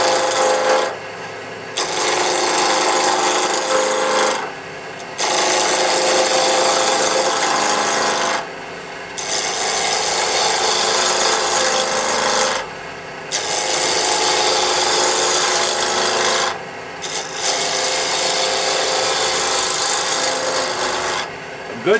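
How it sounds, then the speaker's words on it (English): A roughing gouge takes the corners off a wood blank spinning on a lathe at about 1500 RPM, a loud continuous rasping cut in long passes broken by short pauses. "with my roughing gouge, I'm going to take some corners off"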